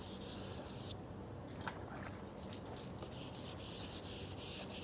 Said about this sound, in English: You're evenly sanding the surfaces.